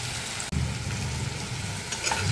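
Chopped onion, ginger and garlic sizzle steadily in a pan, close and continuous, with a brief stirring knock near the start.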